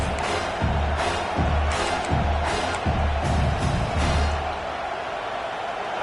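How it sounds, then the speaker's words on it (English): Home crowd in the NCAA Football 26 video game at Williams-Brice Stadium roars without pause, a dense wall of cheering punctuated by regular deep booming beats, loud and close. "how nice is it to have the home crowd going absolutely bananas?"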